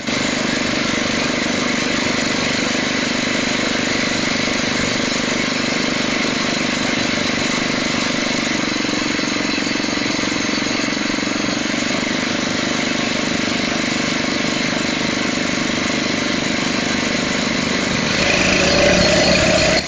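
A Phatmoto Rover motorized bike engine runs steadily for the whole stretch at Busco Beach, a constant buzzing drone at even loudness with a slight rise near the end.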